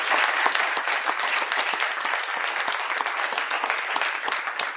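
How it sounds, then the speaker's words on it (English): A conference audience at an IT security event gives a sustained round of applause, dense and steady from start to finish and fairly close, with no voices standing out. "we need a wild round of applause on tape now"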